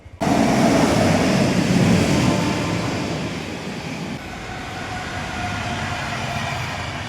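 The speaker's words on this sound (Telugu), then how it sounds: "ఇప్పుడు మీరు నా వెనక చూస్తున్నది వచ్చేసి సింగరాయకొండ రైల్వే స్టేషన్" A train rumbles steadily at Singarayakonda railway station in Prakasam district, a loud, continuous roar that eases slightly partway through. No voices are heard.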